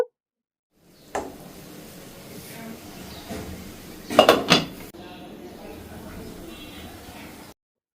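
A metal lid set down on a cooking pot of water spinach and dried fish, a sharp clatter and clink standing out mid-clip over steady kitchen background noise.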